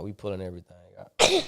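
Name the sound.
sneeze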